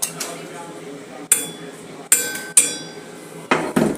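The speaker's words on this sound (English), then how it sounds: "Where's that hammer?" A hammer strikes a VY Commodore differential in a school workshop during welding work, giving four or five sharp metallic clanks spaced irregularly, loud and close, with faint background chatter.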